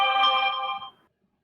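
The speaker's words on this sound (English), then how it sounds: "I just heard your phone" A phone ringtone sounds during an online guild meeting: a bright, steady electronic tone rings for about a second, then cuts off, leaving silence.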